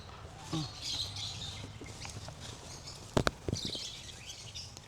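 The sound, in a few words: birds chirping in a bird feeding dome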